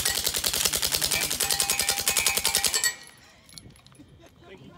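Full-auto gunfire at an outdoor shooting range: a loud, rapid, unbroken burst of shots for about three seconds, then it stops abruptly and quieter background sound follows.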